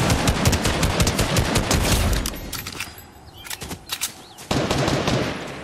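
Gunfire in Fortnite, rapid automatic bursts of close, loud shots that rattle steadily, break off briefly into a few scattered cracks, then resume in a dense volley.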